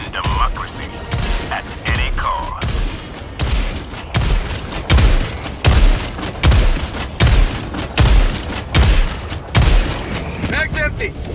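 Shotgun fire at Devastators in Helldivers 2: a rhythmic series of about ten heavy, booming blasts roughly a second apart, each with a short reverberant tail, with faint mechanical clicks between some shots.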